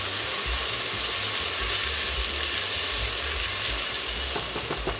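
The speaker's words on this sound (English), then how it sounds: "Once it's completely hot, let's add the onion and garlic." Onion and garlic sizzle in hot olive oil in a pan, a dense, steady frying hiss that stays loud and close throughout, with no talk over it.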